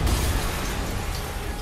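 A loud explosion in the Spider-Man video game, heard as a dense, sustained roar of broadband noise with a heavy low rumble that holds steady for over a second and a half, with no talking over it.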